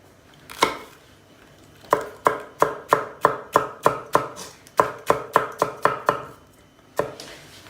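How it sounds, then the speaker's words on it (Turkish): Rapid knife chops of peppers on a cutting board, a single knock then two quick runs of about a dozen crisp strikes each, close and clear. "Şöyle bir tane de sivri biber varmış onu doğrayayım."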